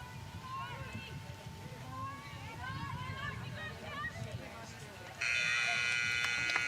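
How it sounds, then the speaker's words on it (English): A loud, sustained electronic buzzer marks halftime at a women's college playoff soccer game, cutting in abruptly near the end over crowd ambience and an announcer's voice. "there's the halftime buzzer"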